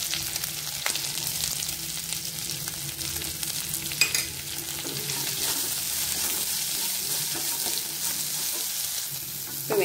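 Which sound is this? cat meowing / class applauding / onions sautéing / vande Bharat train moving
onions sautéing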